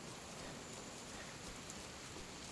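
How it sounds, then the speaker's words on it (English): Rain falling in an area of the video game Monster Hunter: World, a faint, steady hiss of drops that stays even throughout, with no voices over it. "Also, I don't think I've ever seen rain in this area before"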